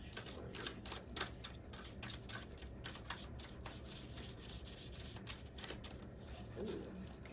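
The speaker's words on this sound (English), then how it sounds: "I think we got some good shuffling going there" Tarot cards being shuffled by hand, a steady run of soft riffling and rubbing strokes that continues through the whole stretch, fairly close and quiet, with no voice over it.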